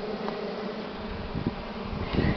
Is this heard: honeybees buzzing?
yes